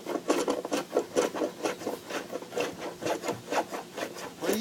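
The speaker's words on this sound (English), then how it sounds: "we decided to enjoy the satisfaction of using small hand tools to create the bevel in the front." Small hand tools rasping a bevel into the wood of a canoe under construction, a steady rhythm of short scraping strokes, close and moderately quiet with no speech.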